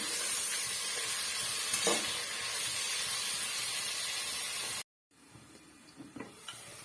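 Onions sauté in a pan while being stirred for a chicken biryani, a steady close sizzle with occasional scraping stirs and a brief break partway through.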